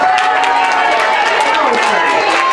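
Audience cheering on a small dog as it knocks down bowling-style pins at a live show, a steady loud wall of crowd noise and shouts filling the whole moment.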